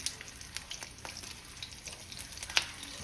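Red hot link sausage charring in a hot pan, a steady close sizzle with scattered crackles and one sharper pop near the end.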